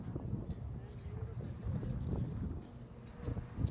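Steady gusty wind buffets the microphone with a low rumbling roar, broken by occasional louder gusts.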